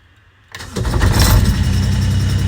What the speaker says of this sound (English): twist round to position 3 to start the engine and release once started